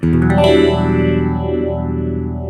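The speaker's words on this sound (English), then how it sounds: "It's a phase 90 in the Fractal" An electric guitar played through a Phase 90 phaser model on a Fractal unit rings out as one sustained, distorted chord, with a slow sweeping swirl moving up and down as the note decays.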